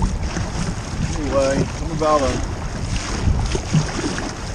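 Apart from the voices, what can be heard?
wind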